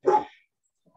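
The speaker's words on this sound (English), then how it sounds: "Sorry if you can hear dogs." A single short, sharp dog bark heard indoors at moderate distance, followed by near silence.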